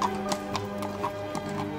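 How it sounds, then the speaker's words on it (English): Clip-clopping hooves of a horse being ridden in an animated story, an even, close rhythm of about half a dozen clear hoof strikes over a soft background, with no talking. "Aurora, let me teach you how to ride a horse"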